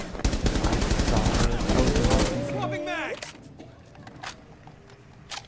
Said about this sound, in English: Chris is currently being shot at